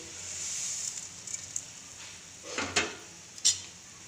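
Vermicelli tipped into a pan of boiling water and stirred while making upma, with a steady bubbling hiss and a few scraping clinks of a spoon against the pan near the end.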